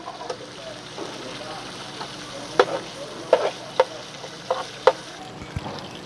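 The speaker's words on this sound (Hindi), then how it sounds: "2-3 मिनट तक इसको फ्राई करेंगे।" A soft, steady sizzle of ginger garlic paste frying in oil in a pan, with a few sharp clinks of a spoon stirring, heard close up.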